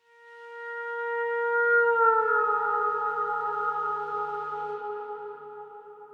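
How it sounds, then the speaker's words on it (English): A single sustained pedal steel guitar note swells in and slides slightly, then rings on with a long, slowly decaying reverb wash. "You can really hear how long that tail is, the decay of that reverb"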